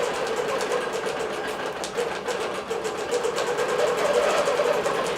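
A computerized quilting machine stitches a quilt of flannel and batik fabric with a rapid, even mechanical clatter of needle strokes, steady and close with no talk.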